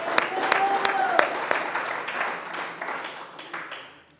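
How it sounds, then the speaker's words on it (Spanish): A church congregation applauding at a Spanish-language service, a moderate spread of clapping that holds steady and slowly thins out toward the end. "Démosle un aplauso al Señor."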